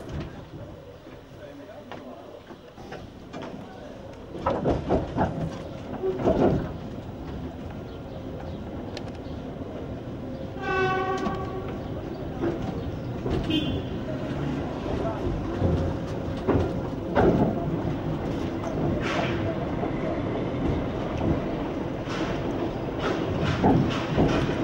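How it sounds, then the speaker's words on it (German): A train pulls into a station in Pomerania, with rolling rail noise and a brief squeal in the middle, heard from the station forecourt under moderate background noise and birdsong. "Da fährt auch gerade ein Zug ein."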